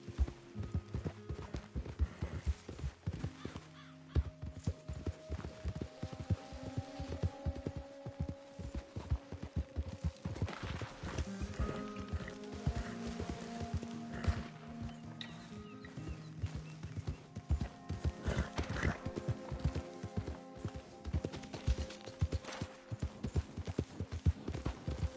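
Horse hooves clip-clop steadily in the Western game Red Dead Redemption 2, a continuous rhythmic plodding with a low hum and occasional horse sounds beneath, fairly close and moderately quiet throughout.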